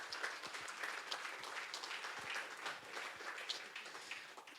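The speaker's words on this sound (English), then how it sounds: "So please give them a big round of applause." An audience at a climate tech panel event gives a big round of applause, dense steady clapping from many hands throughout, fairly distant and even.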